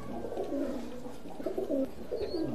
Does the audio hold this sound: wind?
no